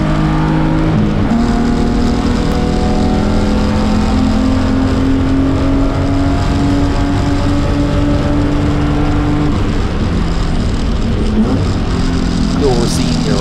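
Race cars including Vipers and a Porsche on the Pittsburgh track during a NASA race, their engines roaring loudly with rising and falling pitch as they pass, under continuous commentary.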